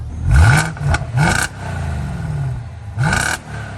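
A BMW X5 E70 V8 engine with a resonator delete revs in several sharp bursts, rising and falling, with a throaty, loud exhaust note close by.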